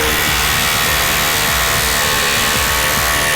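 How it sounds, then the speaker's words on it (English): An SDS rotary hammer drill with a 1/4-inch TAPCON masonry bit bores into concrete, giving a steady, loud, continuous grinding roar with rapid hammering texture throughout, no voices. "So I'm gonna drill a hole."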